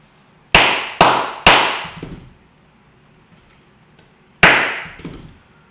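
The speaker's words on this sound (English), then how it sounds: "A couple of taps with the tiny hammer." A tiny hammer tapping an AK-pattern rifle's firing pin into place: three quick sharp metallic taps, a lighter fourth, then a pause and two more, close and ringing briefly.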